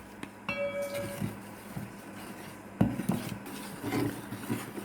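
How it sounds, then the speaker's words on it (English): Eggless vanilla sponge cake batter made with sugar and caramelized condensed milk being mixed in a bowl, with soft scraping and rubbing strokes and a few light clinks of utensil against the bowl, fairly quiet and close. "And now I am going to mix it well"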